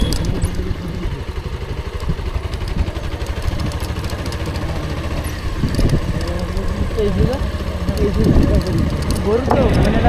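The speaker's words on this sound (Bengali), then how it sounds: "Engine van." A motorized engine van, the kind used as a local lorry on a rural Sundarbans road, runs with a steady chugging engine drone throughout while people talk over it.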